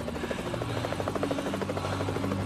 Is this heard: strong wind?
no